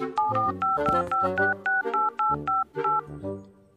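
A rapid series of about a dozen dual-tone keypad beeps, evenly spaced, like a number being dialed on a phone, with a low hum underneath.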